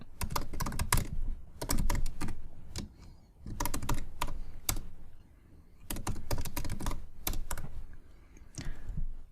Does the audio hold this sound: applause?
no